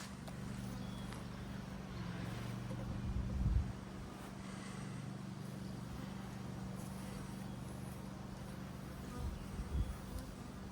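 Honeybees buzzing around an open beehive on a sunny, warm June day, a steady dense hum with a couple of brief louder passes close by.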